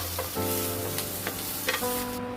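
Onions fry in oil in a pan on medium-low heat for egg dopiaza, giving a steady, close sizzle under a constant low hum, with no voices.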